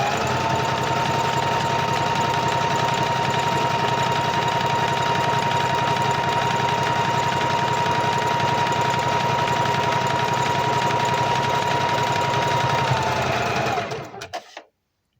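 A sewing machine stitches continuously at a steady, fast mechanical rhythm, a close whirring hum with a high tone that runs for about thirteen seconds, then slows and stops abruptly.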